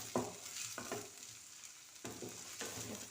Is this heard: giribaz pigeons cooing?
no